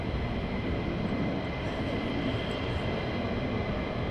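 A military jet taxis down the runway at RAF Lakenheath after an aborted takeoff, producing a continuous, even engine roar heard from a distance with no breaks.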